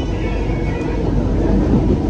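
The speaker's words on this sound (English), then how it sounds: "Please mind the gap between the train and the platform." A Kochi metro train idles loudly at the platform, a steady close low rumble and hum filling the whole moment without pause.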